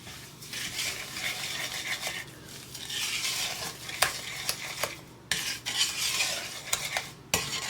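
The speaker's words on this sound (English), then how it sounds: "Let me get my wooden spoon. I'll just mix that" A wooden spoon stirs sugar in a mixing bowl, a continuous gritty scraping with scattered knocks against the bowl's side, close and fairly loud, pausing briefly now and then.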